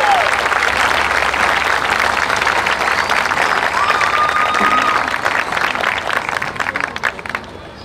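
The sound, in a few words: audience applause at a fair queen ceremony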